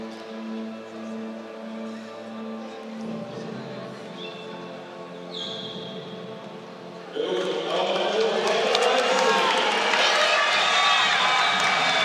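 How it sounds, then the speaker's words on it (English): Loud arena crowd at a judo Grand Prix in Tbilisi, a steady roar of voices that swells sharply midway into heavy cheering, with a commentator talking over it. "this crowd, you can hardly hear yourself think"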